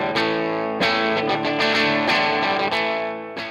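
Chords on an electric guitar played through an Orange CR120H amp head with hall reverb, a few strummed chords ringing out over lush effected sustain, loud and close with no talk.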